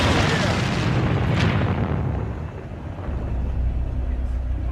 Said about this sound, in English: orders an airstrike